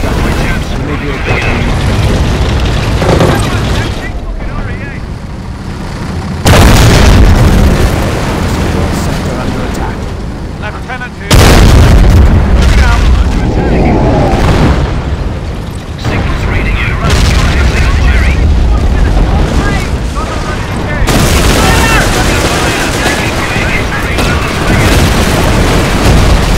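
Heavy artillery explosions in a Company of Heroes Blitzkrieg Mod battle, booming repeatedly with loud blasts near 7 and 11 seconds, over continuous battlefield noise and a voice talking throughout.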